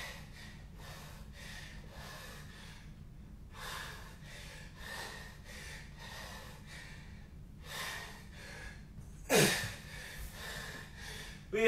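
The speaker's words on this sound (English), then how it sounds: "Control your breathing." Heavy, rhythmic panting after push-ups during a wrestling workout, with repeated breaths at a steady pace and a sharper gasp near the end. The breathing is close and fairly quiet.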